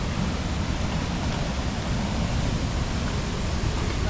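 Bunga Falls waterfall with a strong current, a steady, loud, broadband rush of falling water that holds constant throughout with no pauses or talk.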